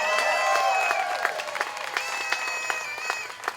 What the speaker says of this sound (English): We can give a round of applause to Spectrum.